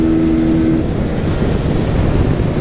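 A Honda CG 125 Fan motorcycle rides at nearly 120, with a loud, steady low engine drone and wind rush close by and no speech.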